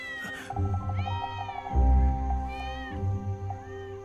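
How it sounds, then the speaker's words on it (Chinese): A small wild cat meows repeatedly in drawn-out, wavering cries, close and fairly loud, with a low rumbling background swelling beneath the calls. "是有一只小野猫想偷吃咱家小鸭子"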